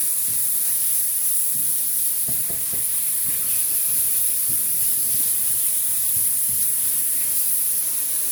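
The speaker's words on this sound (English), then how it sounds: "we dropped the onions in the pan, so we're going to let that cook" Onions and beef sizzle in a hot pan during preparation of a cucuzza squash sauce, giving a steady close hiss with faint scattered crackles and no talk.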